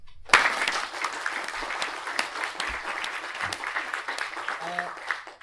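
An audience at a mapathon event in London bursts into sustained applause, many hands clapping steadily at moderate volume for several seconds.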